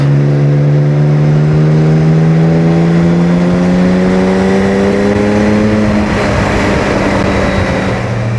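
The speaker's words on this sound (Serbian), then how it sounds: "Dajem gas ovdje. Na motoru sam pa dozvoljavam sebi luksuz." A motorcycle ridden on an open road accelerates hard as the throttle opens, its engine note climbing steadily in pitch for several seconds, loud and close with wind rush, then shifting gear and settling.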